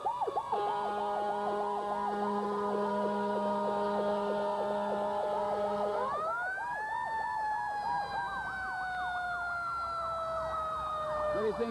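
Fire apparatus sirens from Hampton, New Hampshire and Groveland, Massachusetts wail continuously in a town parade, several overlapping rising and falling tones that shift pitch midway as units pass, loud and steady with faint crowd noise beneath.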